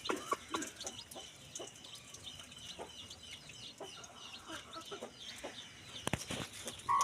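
Farm chickens cluck and squawk steadily at close range, with a rooster among them and a busy yard of overlapping bird calls; no voices are heard.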